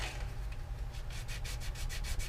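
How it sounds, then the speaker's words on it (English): Steady hand sanding on a wooden Guillow P-47D model airplane, a rough rubbing scrape repeated in quick back-and-forth strokes, close and fairly quiet. "So I just do a little sanding there to get it kind of consistent."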